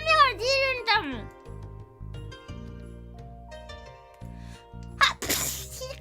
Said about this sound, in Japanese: くしゃみが出るんだもん。